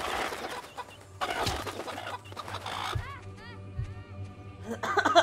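Chicken clucking from a video game, heard as a run of short, pitched bird calls in the middle among loud game effects, thuds and bursts of noise, with a little speech.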